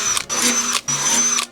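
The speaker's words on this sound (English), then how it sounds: "all I need to do is drill some holes into this metal" Power drill boring holes into sheet metal while building a PC case, two loud high whining bursts separated by a short pause, close up and with no talk over them.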